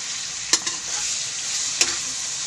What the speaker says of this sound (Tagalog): nagisa ko na yung sibuyas, tapos yung bawang